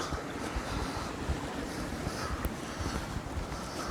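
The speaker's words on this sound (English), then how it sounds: "every so often you come up to this, a waterfall" A small waterfall on a moorland hike near Kinder Scout gives a steady, close rush of falling water with wind buffeting the microphone throughout and no talk.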